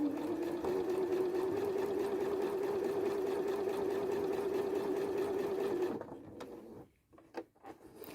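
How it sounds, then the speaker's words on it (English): A Janome sewing machine stitching a quarter-inch patchwork seam, running in a fast steady hum for about six seconds before stopping, followed by quiet handling clicks. "So I'm just going to sew along now, again keeping that bar running along the edge there."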